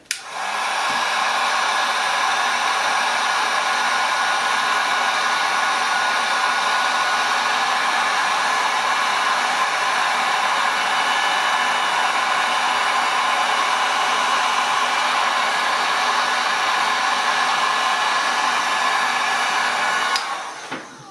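A heat gun blows hot air steadily onto motorcycle labels, a loud, even roaring hiss that starts and stops cleanly and runs on its own without talk.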